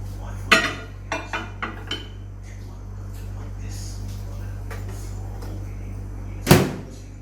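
Loaded chicken fries go into a kitchen oven: a few sharp clinks and clatters of the tray and door come close together, then a louder thud as the oven door shuts near the end, over steady low background hum.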